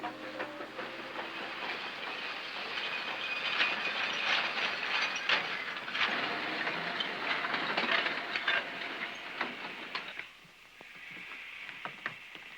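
Steam train arriving in a 1939 western drama, a loud rolling clatter with hissing steam and rhythmic wheel clicks that drops away near the end, leaving scattered clanks.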